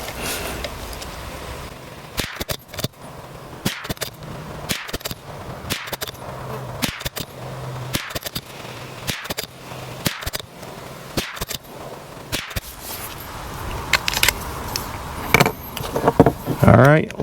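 Bulk .22LR rounds fired from a bolt-action rifle in a five-shot group: sharp, cracking reports spaced about a second apart over steady outdoor background noise, with faint rustling between shots.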